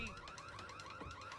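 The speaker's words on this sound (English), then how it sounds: "He triggered a fucking door alarm." Door alarm in the Back 4 Blood video game, a loud, continuous electronic warbling siren repeating in rapid cycles, steady and close.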